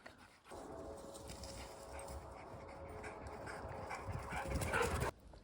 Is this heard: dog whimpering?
yes